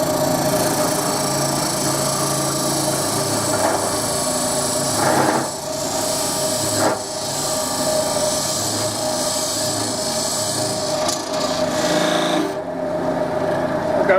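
A wooden cup spins on a wood lathe with a constant whirring hum while a cutting tool scrapes and rasps against the wood, now and then catching in brief louder bursts.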